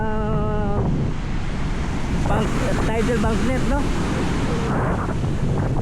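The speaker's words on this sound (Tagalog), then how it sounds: "So mahaba, tapos malalaki yung alon." Big ocean waves at Dahican Beach in Mati, Davao Oriental, a popular surf spot, make a continuous loud roar of surf mixed with wind buffeting the microphone, while someone talks briefly over it.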